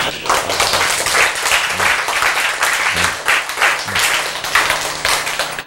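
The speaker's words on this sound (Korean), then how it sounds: "여러분이 왜 박수를 쳐?" A church congregation claps during a sermon, a dense, loud wash of hand claps filling the room with a few rhythmic swells, while a low hum runs underneath.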